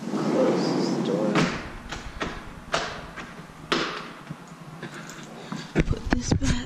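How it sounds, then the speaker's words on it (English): An interior door in a house is pushed shut, with a loud slam followed by several softer thumps and knocks, and someone talks intermittently around them. "Close this door."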